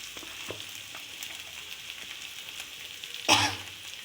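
Dosa batter cooks on a large stone griddle with a faint, steady sizzle, a few soft clicks scattered through it and one short louder burst near the end.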